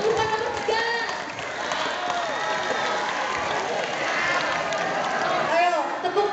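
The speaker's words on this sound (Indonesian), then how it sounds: "Ayo, tepuk tangan yang kurang meriah sekali lagi dong." An audience at a school student council election applauds and cheers in a dense, continuous wash of clapping and voices, with children shouting over it throughout.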